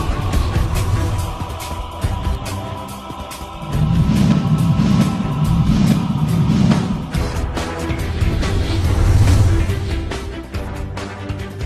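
A car driving on a road on a cold morning, heard as a loud, steady rumble of engine and road noise that swells and eases slightly throughout, with no talking.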